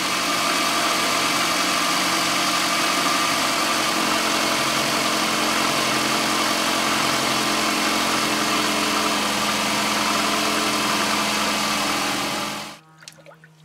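A steady, continuous engine idle hums close by, even and unchanging for about twelve seconds before cutting off abruptly near the end.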